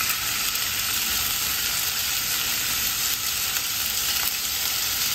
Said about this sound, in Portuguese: Vou colocar aqui na panela agora que tá bem quente.